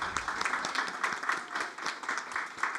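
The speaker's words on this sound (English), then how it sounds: "Could we just give a loud round of applause" Audience applause at a Ministry of Social Development and Family Services event, fairly quiet and sparse, with individual claps distinct within a thin crowd rhythm.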